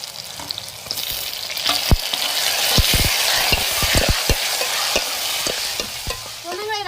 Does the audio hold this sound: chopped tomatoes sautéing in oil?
yes